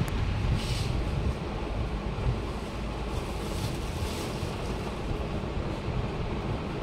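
Chopped vegetables, including papaya, ridge gourd, snake gourd and pointed gourd, land in a hot pan and set off a loud, continuous broadband sizzle that is strongest at first and then settles into a steady roar.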